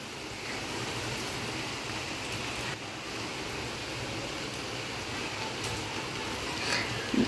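Heavy rain pouring down steadily in a village, a dense, continuous hiss that stays loud and even throughout with no pauses.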